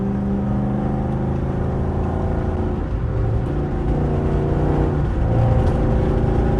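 Steady, loud engine drone and road roar from inside a 400+ horsepower Dodge R/T speeding up on a highway, with a sustained low hum and slight swells as it accelerates, no talking.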